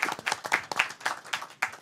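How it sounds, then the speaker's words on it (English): Scattered applause from a small audience at a lecture on designing just cities, a handful of distinct close claps in an uneven rhythm, brief and fairly light. "let's have a round of applause for this great"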